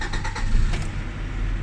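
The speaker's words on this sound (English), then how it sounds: "Let's just start it again in a second and see how it does." A 1999 Acura Integra LS engine cranks in a quick series of rapid starter pulses, then catches and settles into a close, steady idle rumble.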